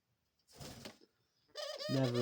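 A pet dove picks up and drops plastic zip ties indoors, making a short rattling clatter, then coos loudly and close by.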